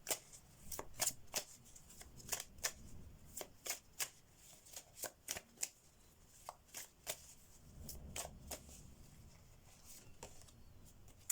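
A deck of Andromeda Skies tarot cards being shuffled up close, with a quiet series of quick riffling taps and slaps at an uneven rhythm in a soft, still room.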